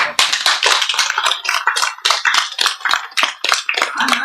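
A seated audience at a Buddhist sutra lecture breaks into steady, loud applause, with many hands clapping densely and continuously, close and filling the room.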